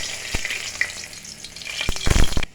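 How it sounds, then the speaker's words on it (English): Garlic hits hot oil in a pot for a Jamaican-style curry crab, sizzling steadily with a few stirring clatters and a louder burst of frying near the end, close and alone. "Okay, so right here I have the oil. I'm gonna add the garlic to it."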